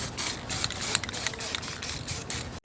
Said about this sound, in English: in a well-ventilated area, I sprayed our telescope with a mixture of gold and black